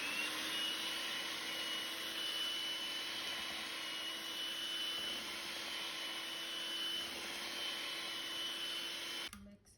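An electric mixer beats cake rusk batter with a steady, loud whirring drone that holds unbroken for nearly ten seconds before cutting off abruptly, with no talking over it.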